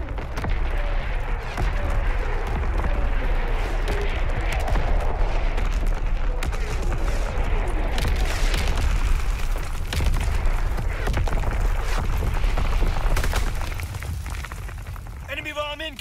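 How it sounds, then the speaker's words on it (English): Incoming enemy artillery strike in Call of Duty WW2 team deathmatch: a dense, continuous rumble of booming explosions and crackling impacts fills the whole stretch, loud and sustained, with in-game voice callouts mixed over it. "Incoming enemy artillery!"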